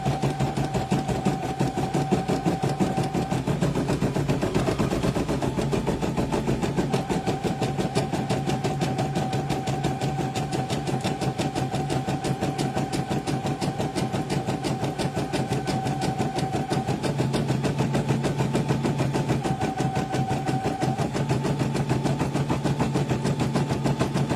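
An embroidery machine running a stitch-out, with a fast, even mechanical chatter of the needle and a steady motor hum, close by and continuous, and a faint tone that drops in and out.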